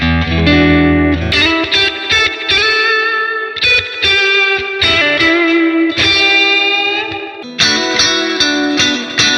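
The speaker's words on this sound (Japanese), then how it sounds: "磁気ディスクがねこう回ってディレイっていうかエコーになる" Loud electric guitar playing distorted phrases through a tape echo delay effect with a rotating magnetic disc, each note trailing off in repeating echoes.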